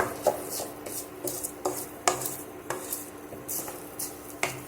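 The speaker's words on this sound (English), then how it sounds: "For the rice to fry a bit in the oil." Rice frying in oil with onion in a pot while being stirred: a soft background sizzle broken by repeated scraping and clinking strokes of a spoon against the pot, roughly every half second, close and clear.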